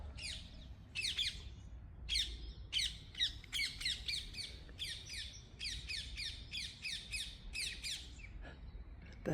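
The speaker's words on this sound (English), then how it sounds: "Birds have got something to say." Birds squawk and chirp in a churchyard at St Andrew's Church in Hornchurch, with repeated harsh calls in quick bursts that carry on steadily over a quiet background.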